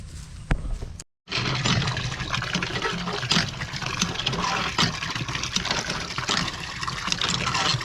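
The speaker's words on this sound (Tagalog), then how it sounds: "Hindi pa man napupuno itong drum." Water gushing and splashing into a drum being filled for spraying, outdoors beside a river, a loud continuous pour with a brief cut near the start and an engine droning faintly underneath.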